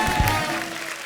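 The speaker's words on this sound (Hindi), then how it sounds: "रॉकेट बॉयज के लिए एक बार जोरदार तालियां हो जाए" Audience applause at a live comedy show in a large hall, a broad wash of clapping that starts strong and slowly thins, with a brief amplified voice or tone sounding over the start.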